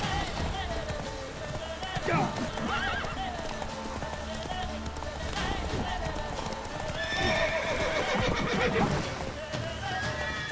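A horse whinnies and its hooves clip-clop steadily over a busy soundscape in the game The Witcher 3: Wild Hunt, with a voice talking over it.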